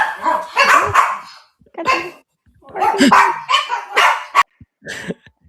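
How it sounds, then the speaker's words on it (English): A dog barks loudly and close in a series of sharp, uneven bursts, some in quick pairs, with brief pauses between. "Whose dog was that?"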